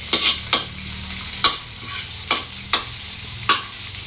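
Chopped ginger sizzles in a hot pan while a spoon scrapes and stirs it in five or six sharp, evenly spaced strokes over a steady frying hiss.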